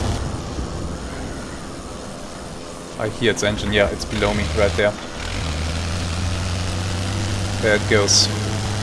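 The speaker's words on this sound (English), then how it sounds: "I hear its engine, yeah, it's below me, right there." A WWI aircraft engine in the flight game Wings Over Flanders Fields drones low and steady throughout, while someone speaks briefly over it midway.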